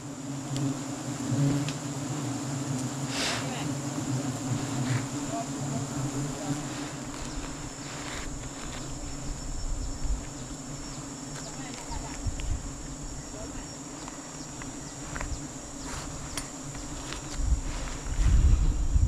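A steady insect drone of buzzing honeybees hums throughout, with a constant high whine and low rumble, occasional soft knocks and rustles nearby.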